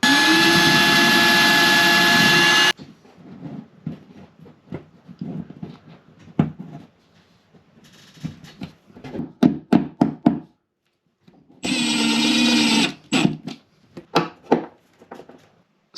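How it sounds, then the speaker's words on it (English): A power drill bores an 8mm hole into a plasterboard wall while an IKEA Billy bookcase is being fixed in place: two loud, steady bursts of motor whine, with knocks and handling clatter between them and no talk. "So we drill an 8mm hole."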